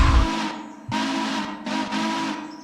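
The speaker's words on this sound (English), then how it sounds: "This honestly reminds me of the 290s whistle when it was running in the 90s." A steam locomotive whistle in the railroad game Railroader, sounding loud and close in three sustained hoots, a long first blast followed by two shorter ones with brief gaps, rich with hissing overtones.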